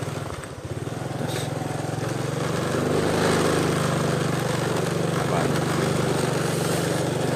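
A motorcycle engine drones steadily and grows louder as it crosses a narrow one-lane bridge in a rural teak-forest village, continuous and fairly close, with people talking over it.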